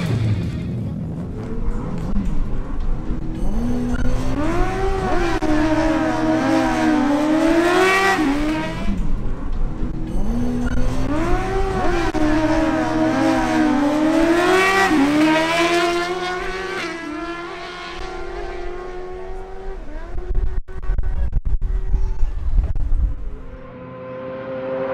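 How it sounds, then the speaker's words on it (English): Suzuki GSX-R1000 and Honda CBR1000RR sport bikes at a drag race, loud engines revving and screaming through rising gear changes, then fading as they pull away, with no talking. "Next up are Cesar Camacho on his Suzuki GSX-R1000 versus Adrian Murcia on his Honda CBR1000RR."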